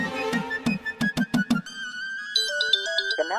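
A mobile phone's electronic ringtone plays a bright, stepped melody that rings on with no answer, following a short run of punchy drum-like hits.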